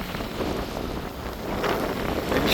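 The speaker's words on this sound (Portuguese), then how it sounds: "O ventinho tá bem forte agora." Strong wind on a beach buffets the microphone in a steady roar, with gusts rising toward the end and a faint wash of surf beneath.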